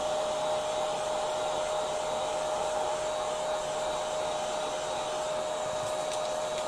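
A hair dryer blowing on a layer of coffee-stain paint, a steady close whine and rushing airflow held constant throughout without pause.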